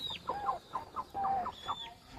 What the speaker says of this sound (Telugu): మంచి హైటు ఉన్న పెట్ట ఇది